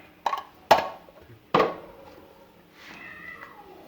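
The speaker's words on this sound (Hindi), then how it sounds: "बिल्लियों की आवाज़ भी आपको आ रही होगी" Several sharp cat meows in a home kitchen, three loud close cries in quick succession followed by a fainter, drawn-out meow, with no talking.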